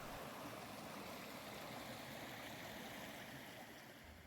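A forest creek just outside Thetis Lake Park rushes in a steady, even wash of flowing water, continuous and unbroken, quiet and uniform from start to end.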